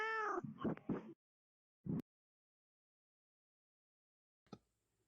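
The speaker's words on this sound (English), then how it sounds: "if you ever see a cat through your doorbell camera, you should probably let it in" A cat meows several times in quick succession at a doorbell camera, close and clear. A short soft thump and a faint click follow after silence.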